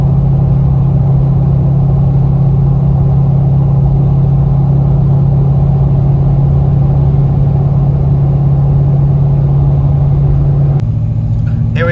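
Chevrolet Corvette C6 Grand Sport heard from inside as it pulls up to a cars-and-coffee meet, a steady low engine drone running throughout, shifting briefly near the end.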